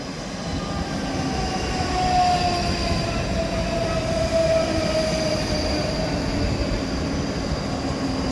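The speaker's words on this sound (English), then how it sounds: "arriving in now is the 1519 Scotrail service from Edinburgh Waverley to Helensburgh Central" A ScotRail Class 334 electric train rolls into Edinburgh Gateway station with a steady, close rumble of wheels on rails, a faint brake squeal rising briefly in the middle, and no voices.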